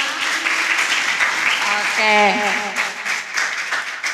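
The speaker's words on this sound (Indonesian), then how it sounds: "Boleh deh tepuk tangan dulu untuk kita semua." An audience at a youth health event on anemia applauds in a continuous crowd clapping wash, with a person briefly speaking over it midway.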